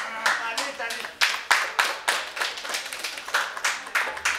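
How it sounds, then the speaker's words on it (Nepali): A small group claps at a donation ceremony, giving rhythmic, fairly close hand claps in a steady beat rather than a broad ovation. "जोरदार ताली"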